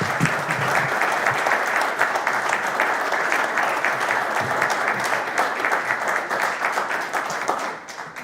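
Steady, dense applause from a seated audience at a talk on farming in Pergamino, many hands clapping together in an even wash that holds for about eight seconds before easing slightly at the end.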